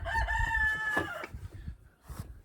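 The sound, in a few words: rooster crowing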